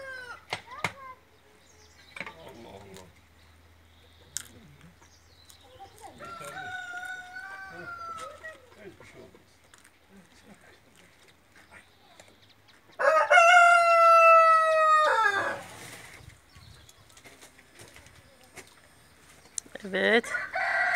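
Roosters crow around a village, with one loud, close, drawn-out crow standing out among fainter calls and scattered clucking and bird sounds.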